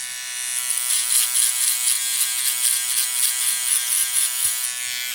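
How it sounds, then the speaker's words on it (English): An Uno 2.0 single foil electric shaver buzzes continuously at close range in a barbershop, its high whine holding level for several seconds with slight fluctuations as it moves. "Now I'm using the world's best single foil shaver"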